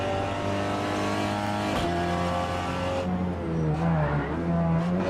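Peugeot RCZ racing cup car lapping Tsukuba circuit, heard from inside as a loud, steady engine drone under hard acceleration, with a quick gear change near two seconds and the revs climbing again afterward.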